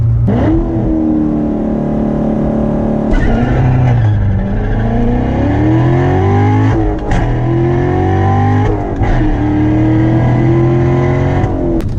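A Corvette C7 Stingray fitted with a Corsa Extreme catback exhaust revs loudly and up close, its engine pitch climbing and falling through several throttle blips over about twelve seconds, with no talking.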